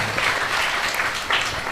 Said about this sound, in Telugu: మనందరము చప్పట్లు కొడుతూ